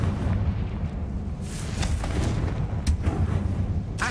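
A Confringo blasting spell goes off in Hogwarts Legacy, with a loud rumbling explosion and sharp blast transients over continuous game sound.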